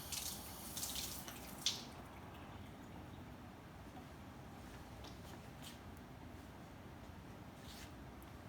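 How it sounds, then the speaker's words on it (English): Water pouring down a sink drain in a lab after an electrolysis of water demonstration, a quiet continuous splashing and gurgling rush, brighter at the start, with a small clink partway. "Now to clean this up, we can just pour this down the drain"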